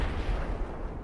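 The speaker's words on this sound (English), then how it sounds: "just watching you fire your gun" Tank gun firing in the video game SOCOM Combined Assault: a single brief, heavy boom with a rumbling tail, close and fairly loud, no voices.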